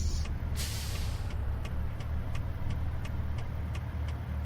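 Air brakes hiss on a big rig in American Truck Simulator, a loud burst of release near the start over a steady low diesel idle with faint periodic ticking.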